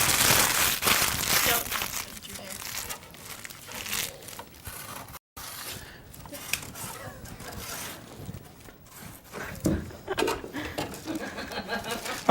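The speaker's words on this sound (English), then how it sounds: "Here, crumble this up and throw it at your sister." Paper is crumpled up by hand, a close, continuous crinkling and crunching that runs for several seconds and swells again near the end.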